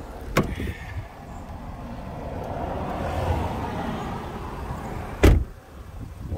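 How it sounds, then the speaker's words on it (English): Keyless entry unlocking a car with refurbished alloy wheels, giving a short click near the start and a sharp, louder clunk of the locks toward the end, over steady outdoor background noise. "So there's the keyless entry."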